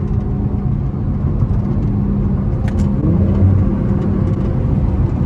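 A Nissan Altima car on the road nearby, a steady low engine hum and tire roar that swells slightly as it passes, fairly loud and continuous with no voices.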